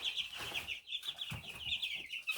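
Two-week-old broiler chicks in a brooder keep up a dense, continuous chorus of high peeping and chirping close by, with occasional soft scuffling underneath.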